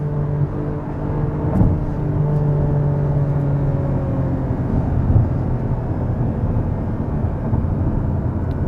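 Porsche 718 Cayman GTS 4.0 engine running with a steady, sustained tone and a faint rise in pitch, heard up close at an even loudness with no talking.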